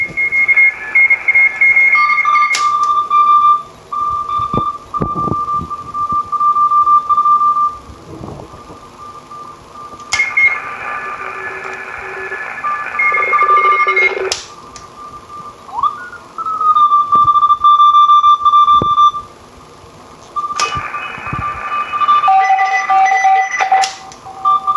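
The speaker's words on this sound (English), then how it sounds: "If we switch the filter to CW mode, then we will more clearly hear just one signal." Morse code signals received on a Heathkit HW-101 single sideband transceiver with its CW filter engaged: clear keyed tones in bursts with pauses, several pitches appearing in turn over a faint hiss.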